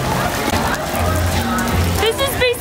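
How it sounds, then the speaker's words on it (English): Heavy rain pours steadily at a Universal Studios theme park during a Disney World trip, a loud, dense wash of drops drumming on surfaces throughout, with faint voices in the background. "it is raining a lot."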